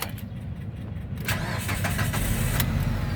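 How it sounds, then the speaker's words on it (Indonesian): A 2005 Mitsubishi Grandis 2.4 MIVEC with automatic transmission starts up: a brief cranking burst, then the engine catches and settles into a loud, steady idle close by. "coba kita nyalakan mobil"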